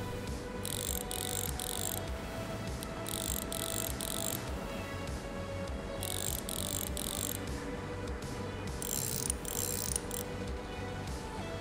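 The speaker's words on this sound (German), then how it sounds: "Dann können wir die Radnabe wieder draufstecken. da können wir jetzt so ordentlich festschrauben wieder." Wheel hub being bolted back on in the video game Bus Mechanic Simulator: repeated bursts of bright ratcheting clicks, roughly six short runs, over a steady droning background.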